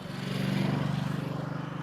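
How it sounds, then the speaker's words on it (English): A motorcycle passes near Amsterdam Schiphol airport, giving a brief, steady, buzzing engine drone at close range with a slight pulsing rhythm. "another motorcycle there"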